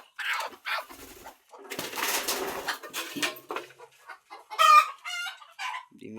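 Hens in a coop cluck and cackle close by in short, irregular bursts, with a few sharper squawks and brief gaps between calls.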